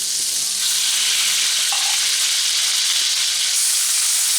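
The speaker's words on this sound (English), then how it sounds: "All right, now let's throw these steaks on." Beef tenderloin steaks searing in butter in a hot pan, a loud steady sizzle and crackle that swells as the meat goes in, close up with no talking.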